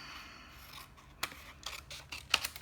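Scissors cut a small scrap of paper while making a card: a few sharp, close snips at irregular intervals over quiet background, louder toward the end, with no talk.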